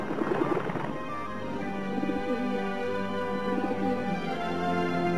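A dove coos close by in soft, repeated throaty calls, with faint background noise and no talking.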